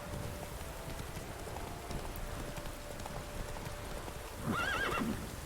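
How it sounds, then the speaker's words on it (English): Roach, Geralt's horse in The Witcher 3: Wild Hunt, clip-clops along steadily, then lets out a loud, wavering whinny near the end over a low ambient bed. "You dumb horse."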